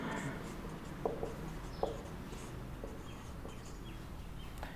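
Faint, scratchy strokes of writing on a board during a classroom lesson in Hindi on the impeachment of the President of India, with a couple of sharper taps over steady room noise.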